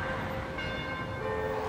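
A church bell rings for a funeral, its sustained tones hanging over a noisy outdoor background at moderate distance, with a fresh strike partway through.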